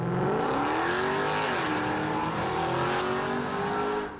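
A 6.2-liter V8 in a small German compact executive car roars loudly and steadily, its pitch climbing, dipping briefly, then holding high as it revs hard, with no talking over it.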